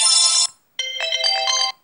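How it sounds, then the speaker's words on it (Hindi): Two bright electronic coin jingles from the game Clash of Clans ring out, a short chime followed by a longer sparkling tone, clean and close with no talking. "फिर ये कॉइंस की आवाज"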